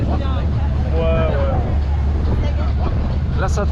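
Strong wind roars and buffets the microphone on a rocking boat off Lloret de Mar and Tossa de Mar, with voices talking faintly underneath.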